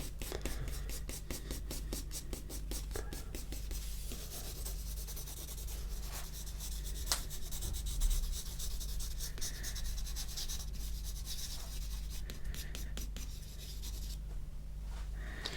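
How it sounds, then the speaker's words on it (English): Soft, close pencil strokes scratch and rub across paper in a flowing sketching rhythm, quiet and continuous with fast repeated hatching passes and brief breathy pauses. "I'm holding the pencil with a nice flowing motion"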